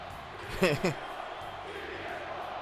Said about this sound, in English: CM Punk chants from the crowd.